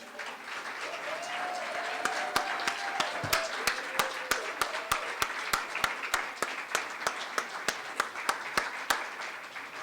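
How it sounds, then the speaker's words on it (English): Audience applause at a teaching celebration, a broad wash of clapping with one near pair of hands striking a steady, loud beat, while voices murmur underneath. "I didn't know we'd do so much clapping, but we've got your applause tools working here"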